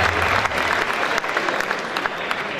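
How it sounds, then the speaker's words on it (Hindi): Audience clapping for a poet at a Hindi comic poetry gathering, a dense steady wash of hands that holds through the short stretch and thins slightly near the end. "उनके लिए जोरदार एक बार तालियां बजा दीजिए सभी लोग"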